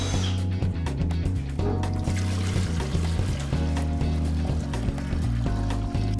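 Coolant pours into a 1973 Triumph Spitfire, a steady liquid gurgle and trickle heard up close against a low, rhythmic engine rumble.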